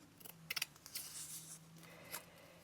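Scissors cut around muslin fabric for a vintage botanical tag, a quick run of close, crisp snips followed by softer slicing sounds, quiet and with no talk.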